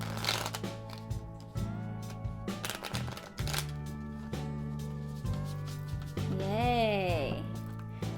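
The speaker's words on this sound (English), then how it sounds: "That might be one of the most perfect first shuffles ever" Rapid riffling and flicking of a soft, new Conjure Cards playing-card deck being shuffled, crisp bursts of rustle over background music with a voice talking.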